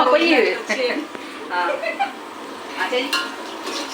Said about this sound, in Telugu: పప్పు తాలింపు వేస్తున్నా